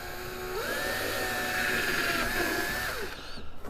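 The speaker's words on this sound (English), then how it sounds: "We'll drill the hole." A power drill whines at a steady, high pitch for a few seconds while drilling a hole in a kayak, then winds down and stops. It sounds close.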